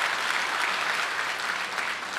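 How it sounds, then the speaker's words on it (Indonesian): A church congregation at a Sunday evening prayer service gives steady, dense applause, a continuous wash of many hands clapping with no speech over it. "Tepuk tangan buat jemaat di tempat ini."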